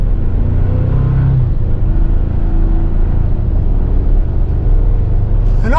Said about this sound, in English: We'll hit the gas a little bit.